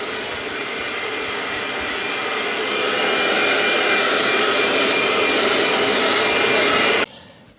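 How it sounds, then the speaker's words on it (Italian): A hair dryer blows steadily at close range over the edge of a piece of chalk-painted furniture, its whoosh swelling slightly midway before cutting off abruptly near the end. "Nel frattempo asciugo con il phon il bordo"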